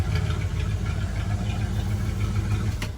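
A 1964 Chevrolet Impala SS idles through its dual exhaust, a steady low rumble that stays even and close for about three seconds, with no talking.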